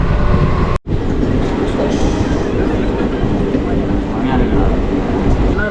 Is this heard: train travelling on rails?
yes